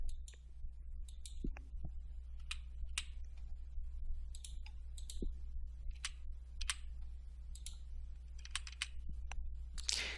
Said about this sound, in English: Clicking the Digitize button closes the sensor setup dialog, opens the record page, and starts digitizing.